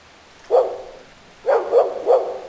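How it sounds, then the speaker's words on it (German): Dog barking in the video game The Lost Crown: one bark, a short pause, then three quick barks in a row, fairly close and clear with no talk over them. "Ist das Ihr Hund?"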